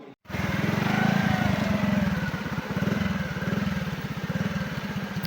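A motorbike engine runs close by on a dangerous path through water, a steady throbbing putter that cuts in after a brief silence and holds on with slight rises and dips.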